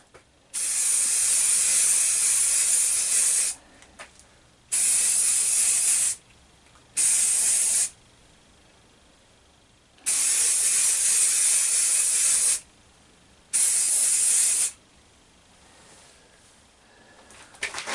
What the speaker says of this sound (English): Okay, well, it's spraying alright.